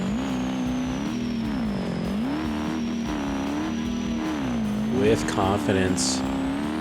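A big red Ford D-Series truck in BeamNG revs hard through a mud drag pit, its engine droning steadily and surging with pitch swells, loud and close, while someone talks over it.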